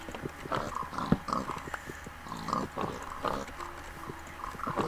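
Steady clicky tapping and shuffling runs throughout, with occasional low grunting from pigs in Minecraft mixed in, fairly close and moderately loud.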